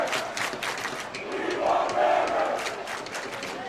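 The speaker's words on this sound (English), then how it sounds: "The crowd now cheering for the backup goalie of Kinnelon." Crowd cheering and yelling at a high school ice hockey game, a loud continuous roar of many voices in an arena that swells slightly in the middle.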